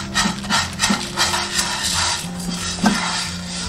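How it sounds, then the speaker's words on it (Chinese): Rice and whole spices such as bay leaves, star anise, cinnamon, dried chilies and Sichuan peppercorns are stir-fried slowly in a wok over low heat, with repeated spatula scrapes and knocks under a faint hiss. "转小火慢慢炒。"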